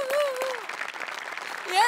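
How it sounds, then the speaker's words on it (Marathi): Studio audience applause on a Marathi comedy show, moderate clapping running under a voice that talks over it. "तर इतका परफेक्ट दाखवला तर सेटिंगवाल्यांसाठी सुद्धा टाळ्या."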